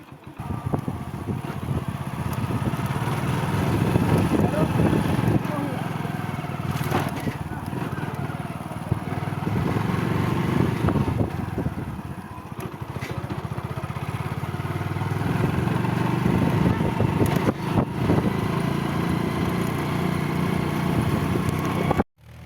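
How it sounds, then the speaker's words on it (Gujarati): A motorbike engine drones steadily while riding to a farm, rising and falling with wind rumble over about twenty seconds before stopping abruptly. "હવે જવાનું હો આપણે ખેતરમાં આયરા રોડે બાઇક લઈને."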